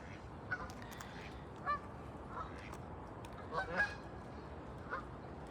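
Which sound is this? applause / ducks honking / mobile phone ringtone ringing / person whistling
ducks honking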